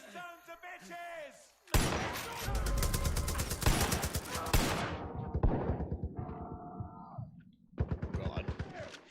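Loud gunfire in Far Cry 5, a sudden sustained stream of rapid automatic shots followed by scattered bursts, with voices shouting and talking over the shooting.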